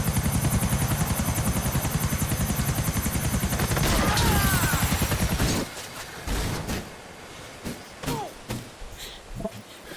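A helicopter in Grand Theft Auto 4 drones with a loud, rapid rotor chop for about five seconds, then cuts out, leaving scattered thumps and clunks.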